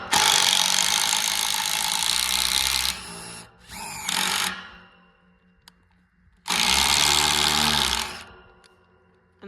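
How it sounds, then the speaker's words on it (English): A power drill bores a hole through a bracket for a Topens solar gate opener. It runs in two long, loud whirring bursts separated by a few short stuttering spurts and a pause. "Now we're just going to drill through"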